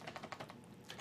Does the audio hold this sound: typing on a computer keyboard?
yes